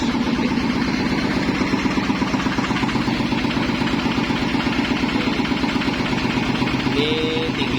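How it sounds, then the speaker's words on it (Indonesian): Corn emping flattening machine (mesin iles) running in a corn chip workshop, a steady loud mechanical drone with rapid regular thumping pulses throughout, a faint squeal near the end. "Mesin iles"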